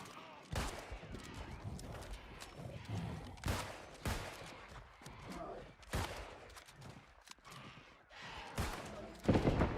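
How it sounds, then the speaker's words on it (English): Gunfire in the New World video game, a series of sharp shots and impacts scattered through the stretch, loud and close, mixed with game sounds and a voice talking over them. "Oh damn, I missed that shot."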